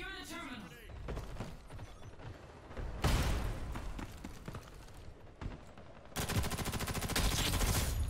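Gunfire in the video game First Assault Online cracks out in bursts, scattered single shots early and then sustained rapid automatic fire toward the end, with a voice talking between volleys.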